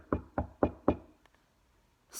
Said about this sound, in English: Lola knocks at the door.